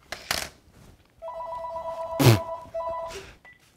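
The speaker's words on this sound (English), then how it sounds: "next time the phone rings" A telephone rings indoors, two bursts of a warbling electronic ringtone in a rhythmic pattern, with a few sharp clatters and knocks around them.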